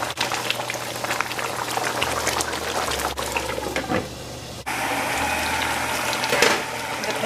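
A pot of lamb and potato curry bubbles and simmers continuously up close, with a dense crackle of popping bubbles over a low hum, broken briefly by a couple of clicks.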